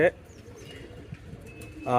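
Soft pigeon coos murmur in the background, with bursts of nearby talking at the start and end.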